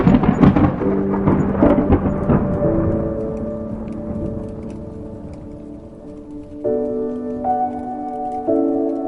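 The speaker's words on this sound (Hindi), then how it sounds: "मानसून की बारिश दक्षिण पश्चिम से गरज के साथ आ रही है" Monsoon rain arriving from the southwest with a thunderstorm, a loud rumbling burst at the start that fades into steady rain, with sustained musical tones running over it.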